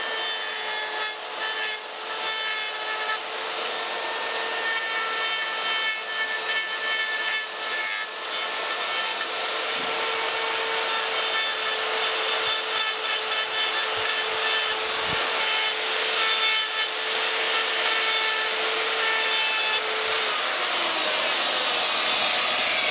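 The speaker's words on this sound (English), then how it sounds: "we'll physically clean it with a die grinder and then chemical after that" A 240-volt electric die grinder cleans aluminium before welding, a loud, steady, high-pitched whine running continuously with slight grinding variations.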